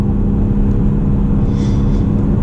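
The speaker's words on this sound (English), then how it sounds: "So I'm ready to accelerate again." Steady low engine rumble from inside a BMW M340i xDrive as it accelerates, a continuous loud drone with road noise and no one talking.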